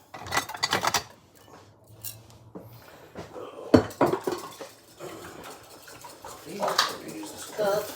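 A whisk clinks and rattles against the sides of a coffee cup in short, uneven bursts, close by, with a person talking in between.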